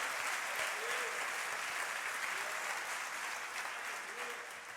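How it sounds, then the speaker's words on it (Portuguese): Steady applause from a church congregation fills the space at a constant level, a dense wash of clapping that runs throughout and tapers slightly near the end. "dá uma salva de palmas ao Senhor"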